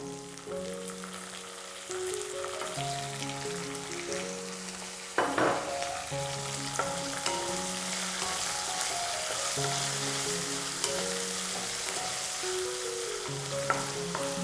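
Small onions and cashews fry in a pan with a continuous crackling sizzle, stirred now and then with spoon scrapes, and faint clinks heard alone without talk.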